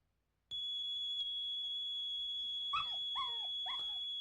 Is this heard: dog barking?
yes